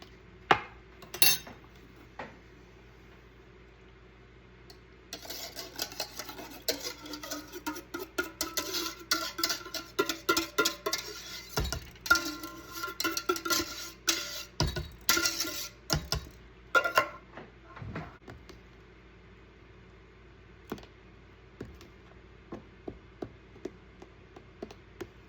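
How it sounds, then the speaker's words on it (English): Spoon stirring pudding mix, Cool Whip and fruit together in a bowl, with soft scraping and clinking against the bowl in irregular bursts, fairly quiet and close, broken by occasional louder knocks. "You want to mix it up really well on your pudding mix so that your fruit is evenly distributed through all of it."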